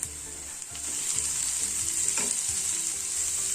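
Mixed vegetables sizzle and fry steadily in a pan for vegetable semiya upma, with a constant bright hiss and occasional stirring scrapes close by, no voices.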